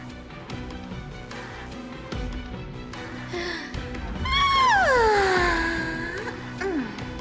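A cat meows in the Honkai Star Rail video game, one long drawn-out call with a falling pitch, fairly close and clear over quieter game background.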